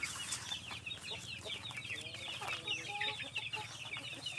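Free-range chickens cluck in a backyard, several birds making repeated soft, fairly close clucks and chirps over a low steady background hum, with no one speaking.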